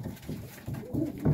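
Young pigeons in their loft compartment give soft, low cooing calls in short bursts, close and fairly quiet, with no talk.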